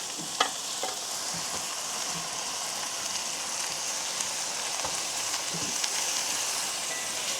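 Carrots and leeks sizzle and crackle steadily as they are stir-fried in a pan in a village kitchen, with occasional scrapes and knocks of stirring over the continuous frying hiss.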